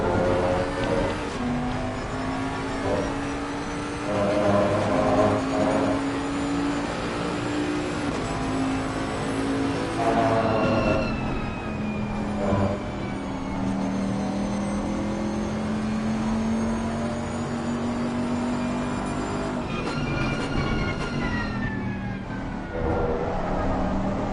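Race car engines in Assetto Corsa Competizione at Silverstone, including a GT4 car, droning and revving continuously with rising and falling pitch through gear changes as cars run close together on track.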